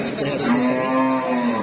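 A Friesian dairy cow at the Shimulia cattle market gives one drawn-out, close moo that lasts under two seconds, with a faint murmur of people in the background.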